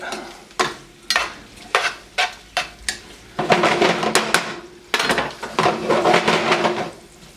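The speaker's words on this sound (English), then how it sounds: "I'm going to toss our ingredients back in there that we took out." Ancho shrimp pasta ingredients are tossed with tongs in a hot pan, sizzling as a series of rhythmic scraping strokes and clinks, then turning into longer continuous stirring and frying sounds, close and loud with no talk.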